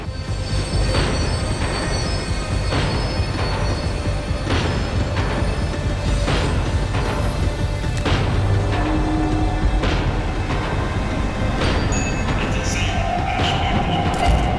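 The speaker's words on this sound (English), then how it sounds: "The tram was slowing down, and I'd only just gotten on board." A tram ride in a video game, with rhythmic clacks of wheels over rail joints, steady low roar throughout, and a faint squeal of braking near the end as it slows.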